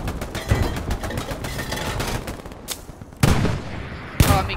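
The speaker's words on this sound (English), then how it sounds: "Oh, I'm being shot at." Gunfire from a World War II battle in the video game Hell Let Loose, with dense rattling shots in rapid bursts, then two sharp loud blasts standing out near the end.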